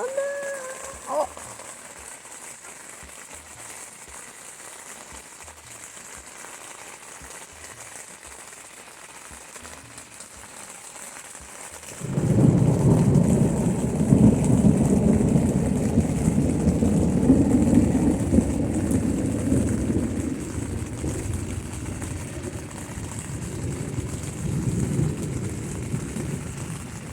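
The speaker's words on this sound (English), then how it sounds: "But oh my god, rain, thunder!" Rain drumming on a camping tent during a thunderstorm, starting quietly with faint background hiss, then a sudden loud onset of heavy, dense rainfall that continues steadily and slowly eases.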